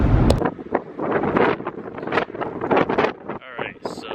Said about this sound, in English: It's a little bit windy, so sorry about the noise